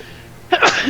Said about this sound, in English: Oriana sneezes with some of the dust in the air.